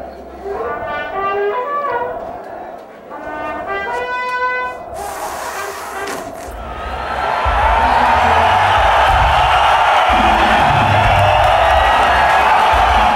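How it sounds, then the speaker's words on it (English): A concert crowd in Mexico City roars and cheers as a punk band takes the stage, loud and sustained, with rising noise that swells and fills the space after earlier scattered voices and shouts. "When we hit the stage, the crowd just went nuts."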